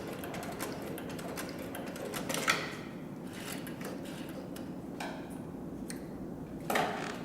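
A CB3200 triple-feed leather sewing machine stitches in reverse through three layers of 2 to 3 ounce leather, making a steady, rapid mechanical ticking at moderate-to-low volume with a few louder clacks and no voices.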